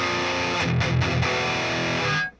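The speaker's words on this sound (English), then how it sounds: "It always sounds heavier when there's two guitars double tracked." Heavy, sustained distorted electric guitar chords, two guitars double tracked through a Line 6 Spider II 2x12 75-watt amp, ring out, with a few rhythmic chugs before the sound cuts off abruptly.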